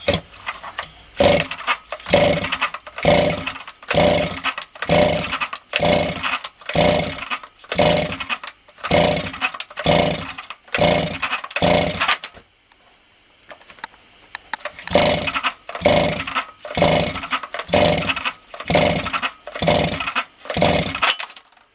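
A Motor Sich 270 chainsaw with a suspected ignition coil fault is pulled over and over, giving a long rapid series of loud, rhythmic rasping cord pulls with a brief pause midway and no sustained engine run.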